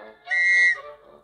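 A whistle is blown in the mobile game Save The Girl to scatter a flock of birds, a single clear shrill tone held for about half a second, close and loud.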